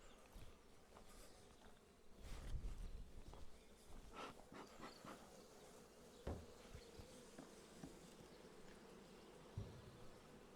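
Honey bees buzz steadily at an opened hive on a cool late-March day, a dense, continuous hum with scattered louder passes of individual bees close by and no talking.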